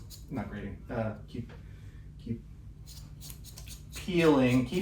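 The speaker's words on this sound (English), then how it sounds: "So if you get a particularly gnarly piece like this in the potato, just keep grating" A raw potato is scraped against a grater for hash browns, giving short rasping bursts that come and go beneath someone talking close by.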